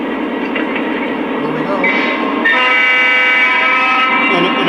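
A Lionel SD45 Great Northern model diesel locomotive starts up with a steady mechanical hum, then a sustained multi-tone horn sounds loudly and continuously for the last half; a voice briefly speaks at the start.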